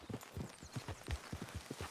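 Horse hooves clip-clop at a steady walking pace in Red Dead Redemption 2, regular close footfalls on a dirt road with no talking.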